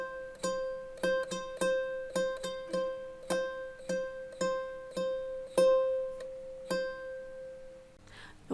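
Ukulele notes are plucked one at a time in a steady, even rhythm, each ringing briefly, played close and moderately soft.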